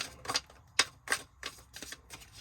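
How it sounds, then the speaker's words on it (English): Quick bursts of crisp riffling and clicking, six or so short flurries in a row, like tarot cards being shuffled close by. "All right, one more shuffle."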